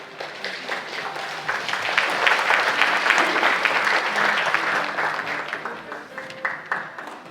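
An audience at the opening ceremony of an international development forum applauds to welcome a speaker, clapping swelling to a full, dense round then thinning into scattered individual claps.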